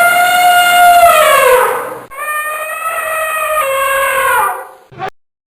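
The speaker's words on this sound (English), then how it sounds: "Elephant, E-L-E-P-H-A-N-T, elephant." An elephant trumpets in two long, loud, brassy calls with strong harmonics, the first sliding downward and the second steadier, followed by a brief sharp burst at the end.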